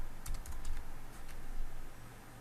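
Rapid, steady clatter of keys on a computer keyboard, close by, with quick bursts of keystrokes over a constant background hum.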